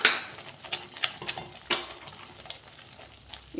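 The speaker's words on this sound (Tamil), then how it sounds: "அடுப்பை கொஞ்சம் ஸ்லோ பண்ணிவிட்டு ரவையை கொஞ்சம் கொஞ்சமாக போட்டு மிக்ஸ் பண்ணிக்கலாம்" Semolina being stirred into boiling water for rava pongal, with a spoon scraping and tapping the pot in quick irregular strokes over a soft bubbling hiss, close and fairly quiet.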